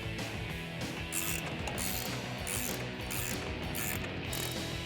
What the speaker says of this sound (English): now I'm gonna go ahead and tighten up these bolt and nut